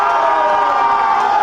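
Wedding guests at a sangeet celebration cheering together, a steady, loud wall of crowd voices and whoops sustained without pause throughout.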